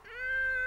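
A cartoon wolf imitates a cat with a single drawn-out, tonal meow, loud and close, rising briefly and then holding steady.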